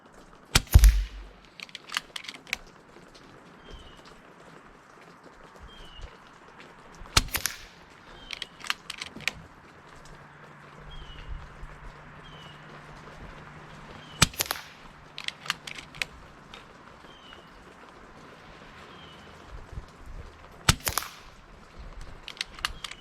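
Umarex Notos air rifle firing JTS Dead Center .22 pellets at a 30-yard target, five sharp, loud cracks spaced several seconds apart, with quiet handling noises and faint clicks between shots.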